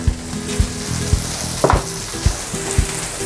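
Garlic and onion sizzle in hot oil in a pan, a steady close crackling fry broken by regular thumps and scrapes of a spatula stirring, with no voices.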